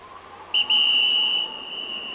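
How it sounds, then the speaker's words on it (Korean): A rescue worker blows a whistle during a windy, rainy night search on a mountain trail, one short blast followed by a single sustained shrill tone lasting almost a second, loud and close. "대원들은 소리가 멀리 퍼지도록 호루라기를 불어서 세 노인에게 수색 위치를 알렸다."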